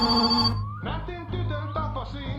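A landline telephone rings inside the video game My Summer Car, one bright harmonic ring cutting off abruptly, followed by a low steady hum and muffled talking.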